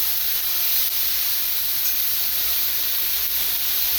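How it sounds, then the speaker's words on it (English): Steady, loud hiss of steam rising from a frying pan of food, filling the whole clip, broad and unbroken with no voices. "In addition to frying, you also gotta steam it a little bit"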